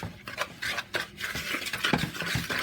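Baked macaroni and cheese with cheddar being stirred, a steady wet scraping and clinking of a spoon against the dish, close and continuous with no talk.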